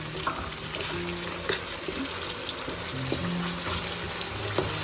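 Steady sizzling and crackling of minced meat with cabbage, garlic and onion frying in a pan, with occasional stirring scrapes, continuous and close throughout.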